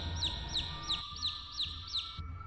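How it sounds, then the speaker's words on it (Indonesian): A chick cheeping in a steady rhythm of about six high, thin, falling peeps, evenly spaced and fairly faint, over a low background rumble. "Anak ayam itu duduk sambil terus menciap"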